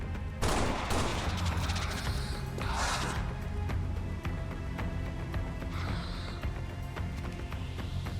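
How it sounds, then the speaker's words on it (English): Gunfire in XCOM 2 as a rogue fires a Sap shot to incapacitate a target: a sharp loud burst of shots up front, then further bangs and rumbling battle noise over a steady background, without talk. "The ability Sap allows her to take a shot at a target and attempt to incapacitate them."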